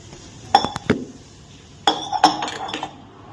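A metal cooking pan clinks and clanks as hot water is set on in a home kitchen, with a few sharp knocks early on and then another quick cluster of metallic taps.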